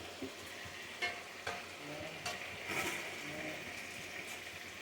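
Chicken gravy with chilli powder, coriander powder and garam masala is stirred in a pan, a soft bubbling sizzle broken by several scraping knocks of the spoon, close and fairly quiet.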